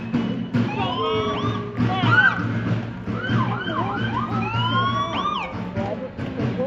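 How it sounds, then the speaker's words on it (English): A police car siren wails and yelps close by during a parade, its pitch sweeping up and down repeatedly over a low engine rumble. "In quite the juxtaposition, Tom, here comes the very modern Nevada City Police Department."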